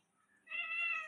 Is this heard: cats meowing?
yes